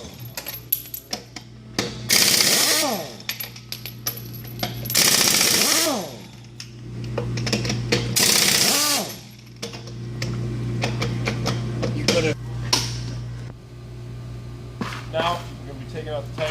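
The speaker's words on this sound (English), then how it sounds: "your lug nut, wrench or impact, and you take off all 10 of your lug nuts" An impact wrench removes truck wheel lug nuts in repeated loud rattling bursts separated by pauses, with a low steady hum underneath and someone talking between the bursts.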